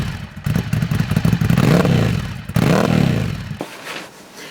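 A loud Ducati Scrambler motorcycle exhaust, a QD Snake Megaphone without its dB killer, drones and rumbles steadily, with a deep low-end roar that swells and dips before cutting off near the end.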